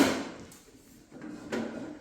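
A tool drawer on a garage chair slides open or shut, a few close scraping and knocking movements with short pauses between them.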